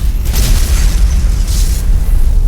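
Spaceships fire weapons in a science-fiction space battle, with deep, heavy booms and rumbling explosions rolling continuously and loudly through the short stretch.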